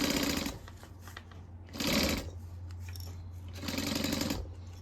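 Sewing machine top stitching across a circle handbag runs in steady mechanical bursts, speeding and slowing over a low motor hum, close with no talk.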